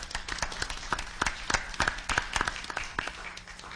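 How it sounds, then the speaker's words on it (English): Applause from the audience at a Gallup McKinley County Schools Board of Education special meeting, a dense run of many hand claps that holds steady for the whole stretch with no talk over it. "If we could give them a round of applause,"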